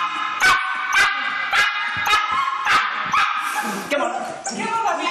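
A puppy recovering from surgery barks in a string of sharp, close yaps spaced about half a second apart, then shifts into higher whining yips at the end.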